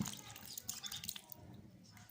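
Beef trotters being washed in water, with soft wet drips, splashes and squishy handling noises close by, faint and uneven over about two seconds.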